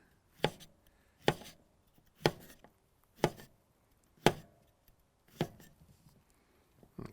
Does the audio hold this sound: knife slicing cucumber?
yes